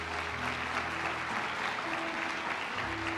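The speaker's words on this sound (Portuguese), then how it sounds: "Diga amém e aplauda ao Senhor Jesus bem forte." A church congregation claps loudly and continuously, a dense wash of applause with a faint sustained tone of music underneath.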